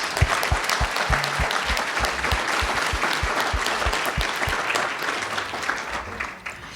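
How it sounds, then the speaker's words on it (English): An audience applauds a staff member named Amy, standing at a campground business gathering, with steady dense clapping that holds strong throughout and tapers slightly at the end, with a few scattered louder claps up front. "everyone give her a big round of applause"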